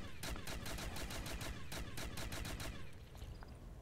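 Rapid bursts of automatic gunfire from a weapon in MW3 Remastered custom zombies, the sharp cracks of repeated shots coming loud and close, then stopping abruptly near the end.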